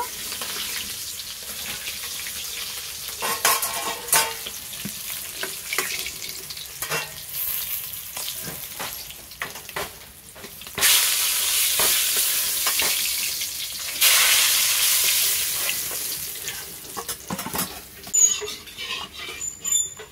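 Rohu fish frying in hot oil in a pan, a close crackling sizzle with scattered clicks and scrapes of turning, rising into two louder hissing surges near eleven and fourteen seconds.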